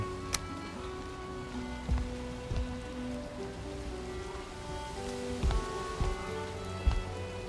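Rain falls steadily in Valheim on an open, roofless building, making a constant hiss over a light surface. Scattered louder drops tick and patter throughout.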